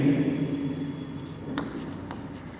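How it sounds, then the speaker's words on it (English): Chalk scrapes across a board during a physics lecture on magnetism, several close, scratchy strokes with a couple of sharp taps over a low room hum. "First let me write this definition."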